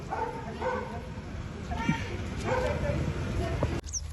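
A dog in Punjab gives a few short barks and yips at moderate distance, mixed in with people talking nearby.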